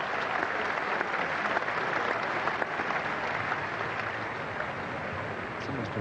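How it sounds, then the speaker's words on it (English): A cricket crowd at the 1986 England versus New Zealand first Test applauds Martin Crowe reaching fifty, with steady, dense clapping that holds evenly throughout at a moderate distance. "and he does earn the rich applause"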